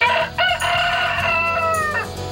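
A rooster crows loudly and close by in one long, wavering call, heard on its own with no talk over it.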